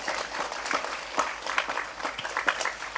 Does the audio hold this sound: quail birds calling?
no